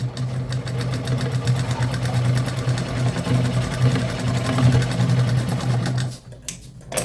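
A sewing machine runs continuously while stitching a blouse, a steady close mechanical whir with a rapid needle rhythm, stopping near the end with a few faint clicks.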